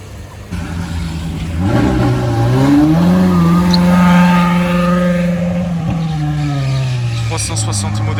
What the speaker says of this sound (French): Aventador S Roadster décapoté sur le départ après une demi-heure à essayer d'avoir enlevé le toit